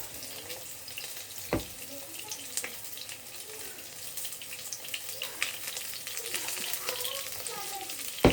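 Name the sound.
shrimp fritters frying on low flame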